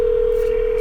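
A steady, loud telephone dial tone holds unbroken for under a second before a real estate wholesaling cold call is placed.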